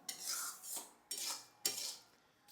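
Mashed cabbage and prawns are stirred in a pan over raised heat, giving four close, quiet scraping strokes of a utensil against the metal, each ending in a brief stop.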